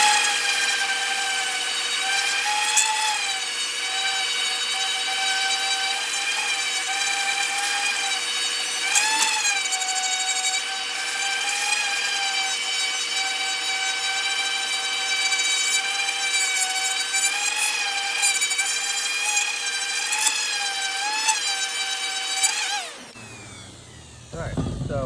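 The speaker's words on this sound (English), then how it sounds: "So now, it's time to sand." A power sander with 120 grit paper works over wood and epoxy resin river coasters, a loud steady whine with shifting tones that runs almost continuously, then cuts off near the end.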